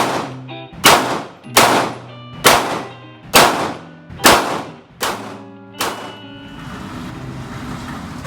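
Eight loud, close pistol shots from an M&P 9 Shield EZ at a shooting range ring out at an even pace, each a sharp crack with a ringing tail, followed by a room-like hiss.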